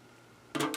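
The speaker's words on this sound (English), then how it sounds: "I'm going to cut this" Cutting a piece of material for a floral tin craft, heard as a short crisp burst of two or three snips or scrapes close to the mic after a quiet pause.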